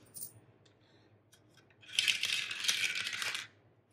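A handful of quarter coins dropped onto a table, landing in a bright, jangling clatter that rattles for about a second and a half in an otherwise quiet room, preceded by a few faint clicks.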